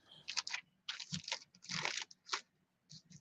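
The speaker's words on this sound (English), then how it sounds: "Oh, those plastic bags." Plastic bags being handled and crumpled, a series of close, crisp crinkling bursts with short pauses between them.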